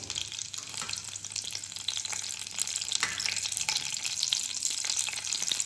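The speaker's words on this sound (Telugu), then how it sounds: "ఇందులోకి కొంచెం ఆయిల్ హీట్ అయిందేమో చూద్దాం. అయింది. సో పచ్చిమిర్చి వేసాను" Green chilies frying in hot oil in a pan, giving a steady crackling sizzle with busy spitting pops throughout, fairly close and without talk.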